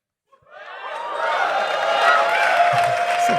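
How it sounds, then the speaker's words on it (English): Live audience at a taped podcast show erupts into crowd noise, applause and cheering after a brief lull, swelling quickly and holding loud with scattered whoops and chuckles. "Applause"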